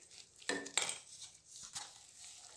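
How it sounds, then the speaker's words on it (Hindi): A spoon stirs semolina and gram flour in a pan over medium heat for besan halwa, with two short scraping clinks against the metal and a soft rustle of dry grains in between. "सूजी को भी मिक्स कर लेते हैं"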